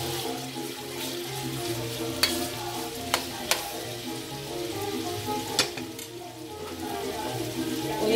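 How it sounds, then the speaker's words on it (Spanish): Ham and salchichón sausage sizzle steadily in a pan, a constant close frying hiss with a few sharp scrapes and clinks of stirring. "El jamón y el salchichón está medio sofrido."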